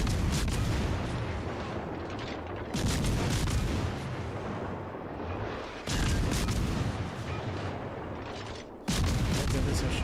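Heavy battleship guns fire in World of Warships Legends, three or four loud booming salvos spaced a few seconds apart, each breaking over a constant roar of noise.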